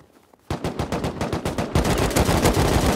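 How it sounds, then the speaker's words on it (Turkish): Rapid automatic gunfire in the video game Rust, a fast, dense burst that starts abruptly and grows heavier and more continuous partway through, with no voices over it. "Sıktım."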